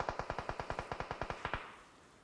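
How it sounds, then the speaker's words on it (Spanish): Rapid burst of about fourteen evenly spaced gunshots from an automatic weapon in PUBG Mobile, fairly loud, stopping abruptly and leaving a short fading tail. "Que te está disparando."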